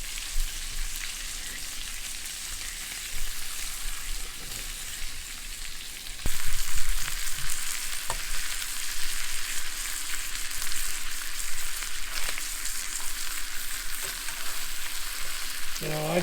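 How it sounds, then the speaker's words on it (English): Rainbow trout pan fries in hot oil with a steady, bright sizzle and crackle close by, growing slightly louder partway through amid faint stirring and utensil sounds. "Now I like my trout a little bit crispier when I'm pan frying it."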